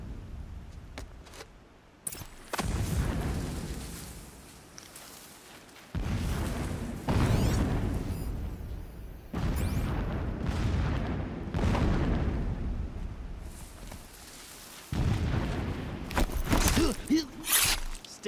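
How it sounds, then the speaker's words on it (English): Blasting explosions in Horizon Zero Dawn, a series of heavy booms and rumbling detonations arriving in separate bursts with quieter gaps, some distant and some close, across the whole stretch. "The blasting should cover any noise you make."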